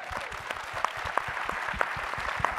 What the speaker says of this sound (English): Let's also have a round of applause.